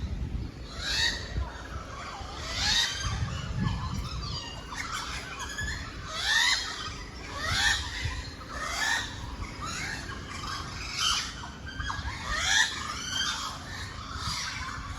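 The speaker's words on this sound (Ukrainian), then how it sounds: "Які, якісь качки літають над головою." Repeated squawking calls from ducks flying overhead ring out at a steady pace over a noisy outdoor background on Saona Island, Dominican Republic, moderately distant.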